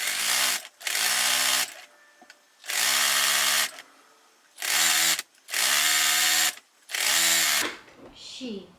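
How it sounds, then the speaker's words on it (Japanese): A sewing machine stitches the folded edges of a fabric bag in six loud bursts of whirring, each lasting about a second, separated by brief pauses. "こうパタンパタンってして端を縫っていきたいと思います"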